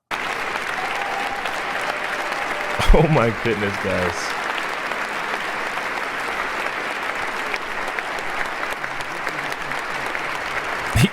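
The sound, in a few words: inauguration audience applauding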